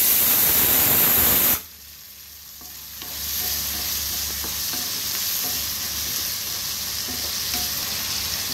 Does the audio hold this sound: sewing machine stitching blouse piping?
no